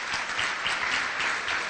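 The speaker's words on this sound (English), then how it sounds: "Once again, just a round of applause for them" Brief, steady round of applause from an audience at a community initiative forum, a dense wash of clapping heard at moderate distance with no talk over it.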